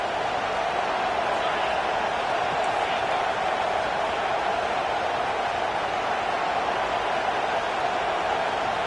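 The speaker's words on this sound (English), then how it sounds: "Here comes the crowd noise, trying to help this defense out." A college football stadium crowd sends up a steady, dense roar to rally the defense, holding at an even, sustained level for the whole stretch with no distinct voices standing out.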